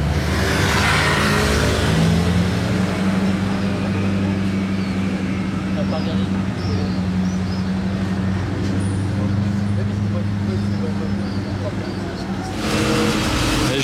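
A Bugatti Chiron hypercar's engine roars with a steady, deep, loud drone that holds for most of the stretch, easing briefly near the end, with people talking over it.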